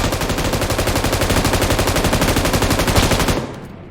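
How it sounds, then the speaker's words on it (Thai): Sustained rapid automatic gunfire in PUBG Mobile rattles in a steady stream of shots for over three seconds, then cuts off abruptly into a faint tail. "นี่เดี๋ยวยิงเลย"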